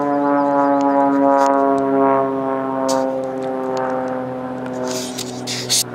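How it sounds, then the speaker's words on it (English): A World War II fighter plane flying overhead in the Colorado Rocky Mountains, a loud, steady propeller-engine drone with strong harmonic tones that swells and fades slightly as it passes, with some brief rustling near the end. "that's like a World War II fighter jet"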